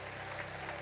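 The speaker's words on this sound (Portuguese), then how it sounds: "Vamos aplaudir o Senhor" A church congregation claps together in a short, steady wash of applause heard at moderate distance over a low hum.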